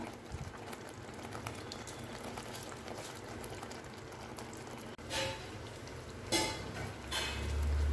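A steady low bubbling and hiss of paneer pasanda gravy simmering in a pan, with a couple of brief clinks of a utensil near the end.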